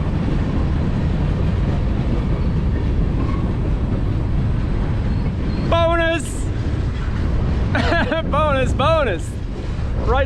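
A train rumbles past close by a trail in Ohio with a heavy, continuous roar, and its horn sounds in several loud blasts toward the end; a voice briefly cheers.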